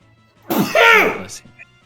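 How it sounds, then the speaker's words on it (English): A person sneezes once near the microphone, a loud, close, harmonic burst with a short lead-in breath and a brief tail, over a quiet room background. "I'm about to sneeze."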